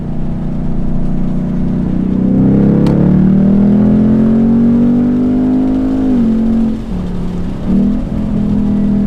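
A Ford Mustang GT with a 10-speed automatic drives at speed, its engine droning loudly and steadily, with pitch sliding as it downshifts and revs change near the end.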